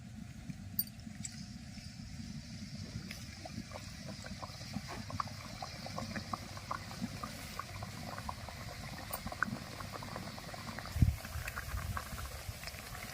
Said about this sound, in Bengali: তেল গরম হয়ে গেছে প্রথমে বিটের লুচিটা তেলের উপরে দিয়ে দেবো